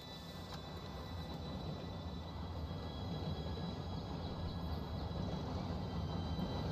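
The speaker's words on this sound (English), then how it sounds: "Train should be here any minute now." Steam train approaching in Red Dead Redemption 2, a steady low rumble that swells gradually louder throughout, with no talk over it.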